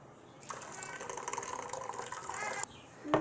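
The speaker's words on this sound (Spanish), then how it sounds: "la agua de la jamaica para vaciarla aquí a la olla" Cooled hibiscus water pours steadily from a container into a cooking pot, a continuous splashing gush lasting about two seconds before stopping, followed by a brief clink.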